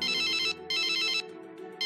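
A telephone rings for a phone-a-friend call on a quiz show, two bright electronic ring bursts separated by a short gap, clear and alone with no talking.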